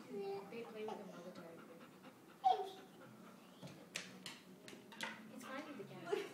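A large dog pants in quick, soft breaths nearby, with faint whimpers and small yelps, while people talk and laugh over it.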